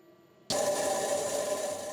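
A laboratory ball mill starts up at 300 RPM, and grinding balls tumble in the jars with a dense, continuous rattling roar that begins abruptly and holds steady, close and loud.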